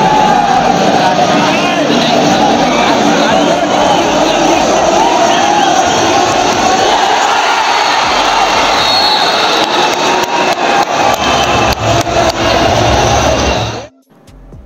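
A large indoor stadium crowd roars and cheers through a Pro Kabaddi match in Chennai, a dense loud hubbub that holds steady before cutting off abruptly near the end.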